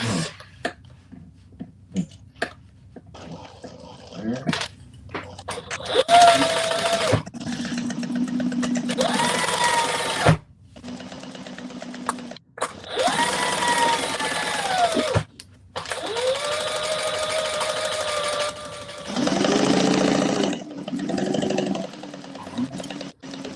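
A sewing machine joins quilt pieces, the tops, mains and bottoms, with a quarter-inch seam, running in several loud whirring bursts of a few seconds each, separated by pauses and with some voice sounds and throat clearing.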